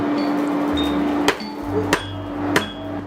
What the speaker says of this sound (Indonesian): suara palu beradu dengan besi adalah tandanya akan muncul sebilah keris baru